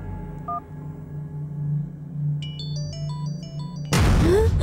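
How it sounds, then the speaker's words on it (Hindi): A mobile phone ringtone plays a short stepped electronic melody of bright beeps over a low steady hum in a horror film scene, then is cut off by a sudden loud rushing burst. "मेरे मोबाइल से कॉल आ रहा है।"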